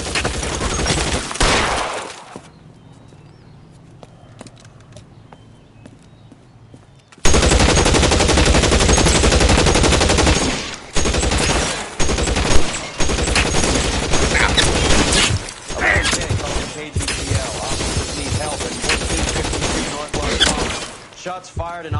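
Rapid machine-gun bursts and gunshots ring out in an L.A. Noire police shootout, loud and dense after a brief quiet pause, continuing with sharp repeated cracks and a few shattering impacts.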